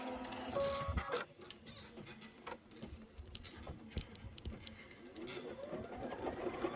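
An embroidery machine stitches a placement line in the hoop while unthreaded, giving a rapid, rhythmic mechanical ticking and whirring that stays close and steady.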